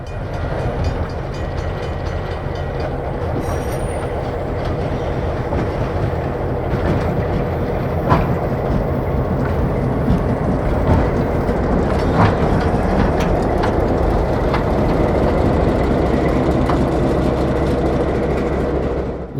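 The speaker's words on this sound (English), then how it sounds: "1203 rolls by the former Pennsylvania Railroad station" A 70-year-old RS-3M diesel locomotive, number 1203, rolls past a former Pennsylvania Railroad station on a short line, its engine rumbling loudly with wheels clicking over rail joints in a steady, close pass.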